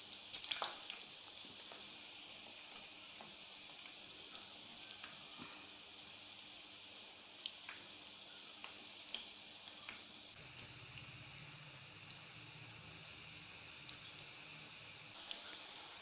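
Chicken patties fry in a pan with a steady, quiet sizzle and small scattered pops and ticks throughout.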